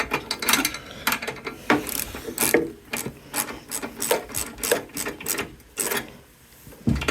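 Close, busy clicking and ratcheting as bolts are snugged down on a Briggs and Stratton lawn mower carburetor during a repair, with quick bursts of mechanical clatter, short pauses and no talking.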